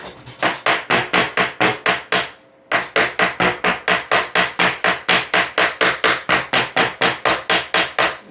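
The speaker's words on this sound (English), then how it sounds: "I got a little hammer here." Rapid, steady blows of a small hammer on a stuck LED panel light ring out close up, a long run of evenly spaced strikes with one brief pause before they resume.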